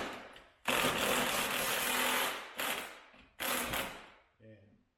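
Socket wrench working the liftgate strut bracket bolts on an Infiniti FX35, heard as long bursts of dense, rapid ratcheting close by, separated by short pauses and ending with a softer tail of clicks.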